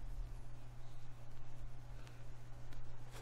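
Faint analog vinyl noise from an Abbey Road Vinyl audio plugin, a low steady hum under soft crackle and hiss, quiet and continuous with no talking.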